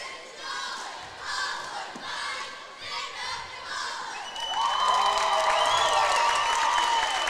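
Cheerleaders chant rhythmic, shouted cheers at a regional quarter-final volleyball playoff, then the whole gym crowd swells into loud, sustained cheering and yelling.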